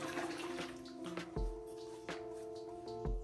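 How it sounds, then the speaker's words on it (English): Warm water poured into a bowl for Arabic bread dough, a steady close splashing and trickling with a few louder glugs, heard without talk. "Just you have to put warm water in there."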